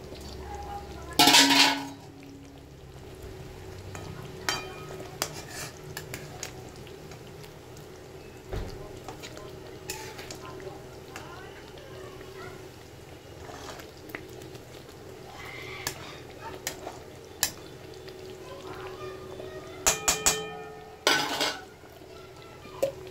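Fish going into a simmering pan of curry with green chilies, followed by scattered clinks of a metal spoon against the pan and loud clattering bursts near the start and end, over a quiet bubbling background.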